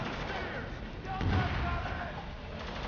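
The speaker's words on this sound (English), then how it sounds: "Where am I getting shot from?" Gunfire in the war shooter video game Spec Ops: The Line, a dense, continuous clatter of shots with a heavier burst near the middle, mixed with game noise and background chatter.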